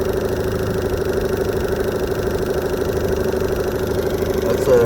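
A 2017 Evinrude E-TEC 15hp H.O. outboard engine runs at a steady idle nearby, a constant droning hum with a fast even pulsing throb throughout.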